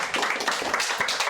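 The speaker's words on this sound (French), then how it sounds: "Il va falloir bien applaudir parce qu'elle a le trac" Applause from a small live audience, dense and steady, filling the whole short stretch at moderate loudness with no voice over it.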